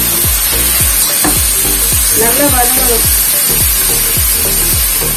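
Ingredients for brinji rice sauté in a hot pan, a loud continuous sizzle punctuated by regular scraping strokes of a spatula, with a brief voice speaking over it.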